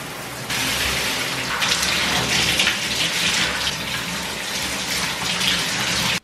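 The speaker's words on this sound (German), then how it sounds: "muss ich einfach drunter stellen und akzeptieren, dass die Dusche kalt ist" A cold shower runs in a steady, loud gushing spray of water, starting abruptly and continuing evenly for several seconds before cutting off.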